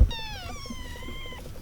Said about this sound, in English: I'm getting followed by some kittens here.